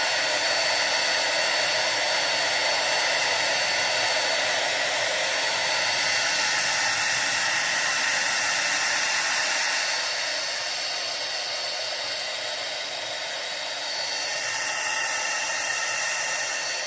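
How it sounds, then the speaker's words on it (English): A hair dryer blows steadily on a mustache, a loud continuous airy roar that dips in intensity briefly toward the end before picking back up, alone without speech. "go ahead and blow dry it just to get all those hairs moving in the same direction and dry it out a little bit"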